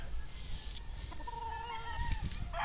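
Chickens cluck nearby on a chicken farm in short bursts, with a rooster's call rising briefly over a low background hum.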